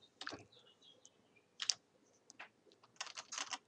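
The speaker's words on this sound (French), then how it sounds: "Et là, je tape l'adresse de Philippe." Quiet, close typing on a computer keyboard as an email address is entered, with irregular clusters of light key clicks separated by short pauses.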